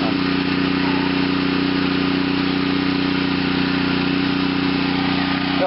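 An OFNA nitro RC engine runs at steady speed, a loud, constant buzzing drone close by that holds one pitch throughout with no talk.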